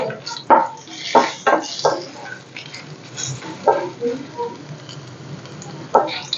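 Spices for tempering sizzle in hot oil for a bottle gourd chutney, a steady frying crackle broken by sharp clinks of a spoon against the pan, with a voice speaking intermittently over it.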